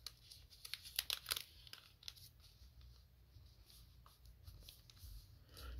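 Sheets of one-sided origami paper being folded and creased into a fidget toy, with faint crinkles and a cluster of crisp rustling creases, quiet and close.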